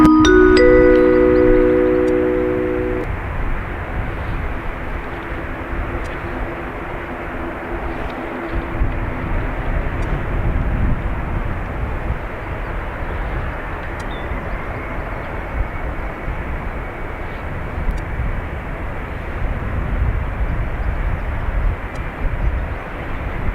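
British Airways Embraer jet taking off from Dublin Airport, a broad distant roar of engine noise holding steady and rumbling on at a moderate level, with a brief tonal radio beep at the start.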